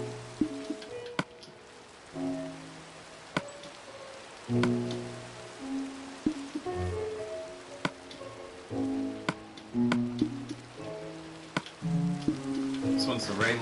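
Soft rain patters continuously in Minecraft while a person talks over it, with occasional sharp clicks scattered through.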